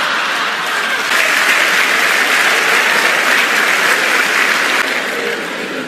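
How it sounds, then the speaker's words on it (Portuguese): Dense, steady applause from a lecture audience fills the room, loud and sustained for several seconds before easing slightly at the end. "Tava difícil de você aplaudir"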